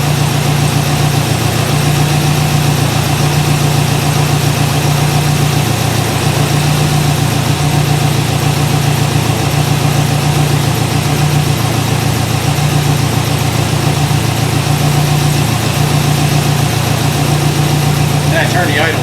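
Porsche 944 fitted with a V8 swap idles steadily, a constant low hum with a mid-range drone, close and loud throughout with no change in rhythm.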